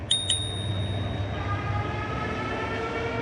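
Two quick bright bell dings from a Blix Vika+ Flex electric folding bike near the start, followed by a steady low rumble with faint tonal hum.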